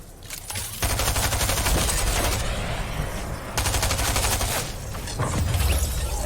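A railgun fires in the video game Fortnite, giving dense, loud, sustained gunfire-like bursts that run almost unbroken for several seconds.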